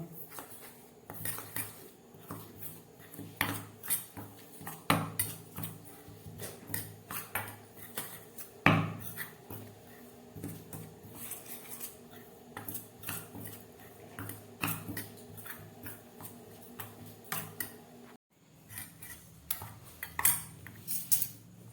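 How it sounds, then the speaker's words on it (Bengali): Sattu flour being worked together with spices and ghee in a bowl, giving a busy run of spoon and utensil scrapes and clinks against the dish, close and steady, with a short break near the end. "খুব ভালোভাবে আমি এই ছাতুটাকে মিশিয়ে নিলাম মশলা আর ঘি দিয়ে"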